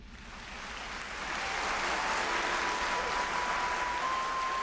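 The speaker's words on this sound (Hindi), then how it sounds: "कुछ ऐसे भी हैं इनमें जिनका स्वागत तालियों से होता है।" Applause from a crowd welcoming people, starting softer and swelling into a sustained, even clapping that holds steady, with no speech over it.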